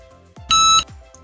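A single electronic beep from a heat press timer, bright and steady, lasts about a third of a second in a quiet room, with faint background hum before and after.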